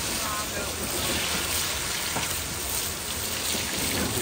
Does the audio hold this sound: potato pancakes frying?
yes